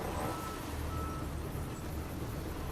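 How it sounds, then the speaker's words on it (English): A truck passing outside a window, heard as a broad, steady low rumble with hiss that holds throughout, with no voices over it. "You can hear that as the truck goes past my window."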